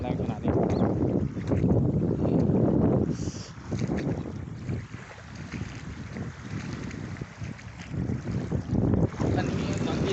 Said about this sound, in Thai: โอ้ลมแรงขนาดนี้